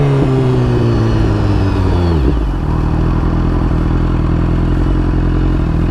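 A pair of BMW S1000RR sport bikes, a 2016 and a 2010 model, rumble loudly and steadily close by, one engine's pitch dropping sharply partway through before settling into a low idle.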